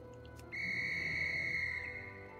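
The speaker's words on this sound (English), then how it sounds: "So we're going to call Kitty Stamp Whistle." A clear, steady whistle tone from the Kitty Stamp Whistle item in a video game, a single sustained pure note lasting nearly two seconds over quiet background hum.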